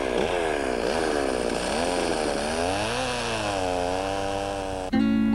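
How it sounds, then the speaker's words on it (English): A chainsaw runs continuously and loudly at close range while carving a wooden sculpture, its engine pitch rising and falling as it bites, then revving sharply at the end. "Clyde Jones uses a chainsaw to produce the inhabitants of his wooden zoo where he lives in Bynum, North Carolina."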